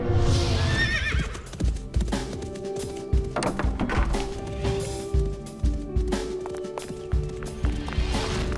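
A horse whinnies loudly at the outset, then its hooves clip-clop in a steady walking rhythm, close and prominent, with scattered thuds between the hoofbeats.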